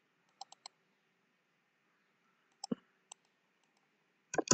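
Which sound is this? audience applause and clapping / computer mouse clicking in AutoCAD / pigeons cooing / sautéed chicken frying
computer mouse clicking in AutoCAD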